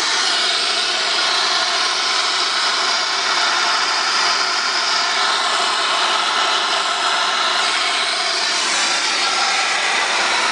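Steam locomotive NZR WF 871 blowing down its boiler while the tanks drain, a steady loud broadband hiss of escaping steam and water that holds evenly throughout, with no voices.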